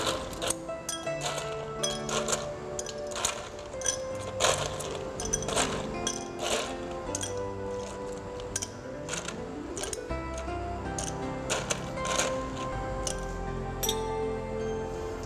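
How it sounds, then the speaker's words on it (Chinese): Ice cubes clink and rattle into an empty drinking glass being filled eight-tenths full for iced coffee, a dense run of bright, close clinks and ticks with no talking. "加入八分满的冰块。"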